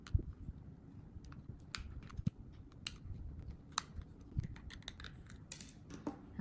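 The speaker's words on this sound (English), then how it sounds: "and now I'm going to unscrew them." Screws are worked loose from a Tamagotchi Smart faceplate with a small screwdriver. Faint, close, irregular tiny clicks and scratchy ticks come from the little tool and the plastic, and there is no talk.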